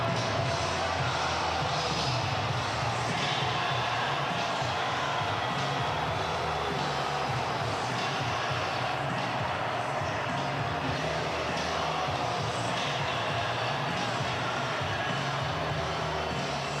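A steady roaring stadium crowd at a Louisville at Pitt college football game in NCAA Football 2025, a dense, unbroken wall of noise that holds level for the whole stretch, with no clear talk over it.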